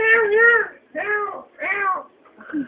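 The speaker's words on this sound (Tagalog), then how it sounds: "Ay, maingay yung pusa dyan." A noisy cat meows repeatedly, three drawn-out, close, loud cries followed by a shorter fourth one, separated by brief pauses.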